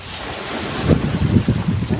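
Rough sea with whitecaps, heavy waves crashing and surging under strong gusting wind that buffets the microphone, loud and continuous.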